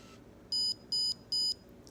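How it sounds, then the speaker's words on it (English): Medtronic 670G insulin pump giving three short, evenly spaced high electronic beeps, clear and close against quiet room hiss. "you'll hear a few beeps and then you see the check mark"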